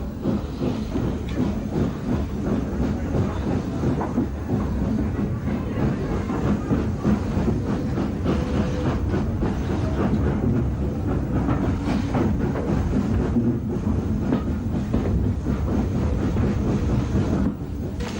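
Rebuilt N15X class locomotive 32329 Stevenson, one of the last in service, readies an enthusiast special to Brighton on a 1950s Southern line, heard as a steady, dense rumble of engine and rail noise, continuous and unbroken, with no talk.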